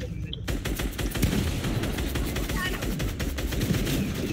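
Rapid bursts of Fortnite gunfire crackle throughout, dense overlapping shots and automatic fire from a battle, with other game effects mixed in and no clear talk.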